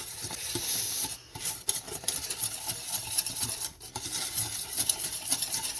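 A foamy, marshmallow-like mixture is whisked in a bowl, producing continuous quiet scraping and light clinking strokes close by, without speech.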